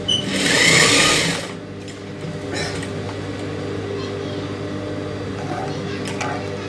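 A sewing machine stitches a silk skirt with a loud whirring burst at first, then settles into a steady low motor hum.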